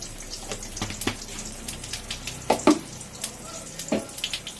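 Black cumin seeds frying in hot oil give a steady close crackle and sizzle, with a few sharper clinks of a utensil against the pan.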